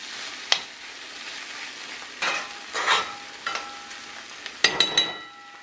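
Caraili caramelizing in a frying pan, a soft sizzle broken by occasional stirs that scrape and clink against the pan, the loudest near the end, close with no talking.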